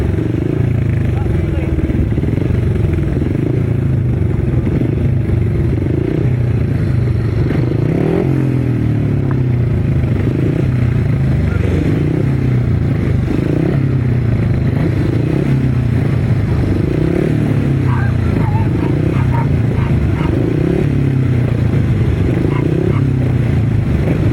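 Grasstrack sidecar racing motorcycles rev and roar at a 2018 grasstrack meeting, a loud, continuous droning engine note that rises and falls as the outfits race, with clattering and scraping mixed in and a commentator talking over it throughout.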